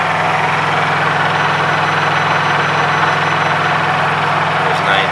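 A Honda EU3000is generator engine runs steadily at lowered RPM with a heater load on low, a loud, constant close-up hum with a low droning tone and no breaks.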